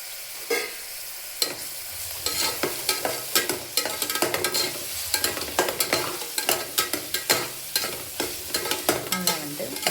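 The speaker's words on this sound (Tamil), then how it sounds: "நல்லா வந்து வதக்கிக்கோங்க." A ripe tomato is sautéed in a hot pan. A spatula scrapes and stirs in quick, repeated strokes over a constant sizzle, close and fairly loud.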